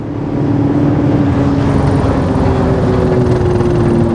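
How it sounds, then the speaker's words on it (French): A BMW 540i E39 with a V8 and manual gearbox pulls hard under acceleration in fifth gear, a loud, steady engine drone with rising tonal harmonics holding throughout. "Même en 5, j'appuie en 5, la voiture elle repart."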